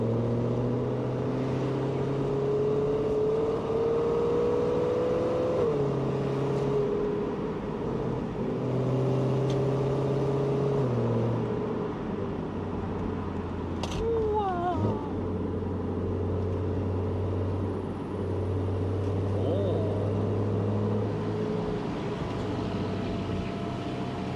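A BMW E92 M3 driving on the Bugaksan mountain road, its engine droning steadily with gentle shifts in pitch as it accelerates and eases off, plus a short squeal partway through.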